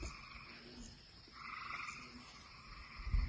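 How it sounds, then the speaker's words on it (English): Frogs croak on a rainy day at home, a steady pulsing chorus of repeated croaks with a louder close call in the middle, over soft rain-like background hiss, with no talk. "Is it a frog? No, that's a frog."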